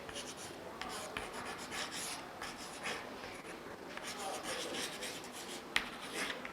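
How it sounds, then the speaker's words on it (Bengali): A teacher writes on a board during a school political science class, a run of quiet close scratchy strokes in short bursts, continuous and faint, with one small click near the end. "আমি লিখে দিচ্ছি"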